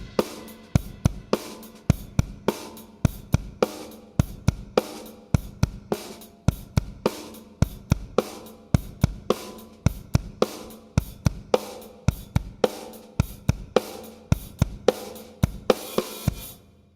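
A drum kit plays an eight-bar section of a song, with steady punchy kick and snare hits under continuous cymbal wash and crash accents, loud and close with no talking.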